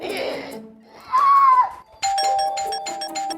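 A doorbell chimes with a bright, repeated electronic ding pattern after a short stretch of muffled voices.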